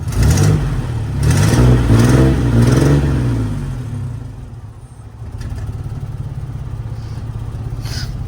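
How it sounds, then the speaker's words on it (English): Idling 1994 GMC Sonoma 4x4 pickup engine with exhaust puffing from a cracked exhaust manifold, a steady low rumble with a louder throaty stretch early on before settling to a quieter continuous run. "The exhaust manifold has a crack in it, so that's where you can hear the exhaust coming out."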